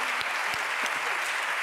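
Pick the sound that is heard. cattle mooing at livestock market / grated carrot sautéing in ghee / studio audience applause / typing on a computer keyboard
studio audience applause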